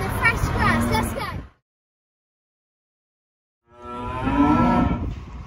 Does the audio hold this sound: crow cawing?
no